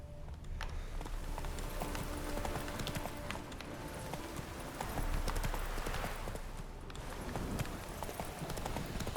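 Horse hooves clip-clop in a steady, continuous rhythm as a mount travels in The Witcher 3: Wild Hunt next-gen on PS5, carried over constant game ambience with no talking.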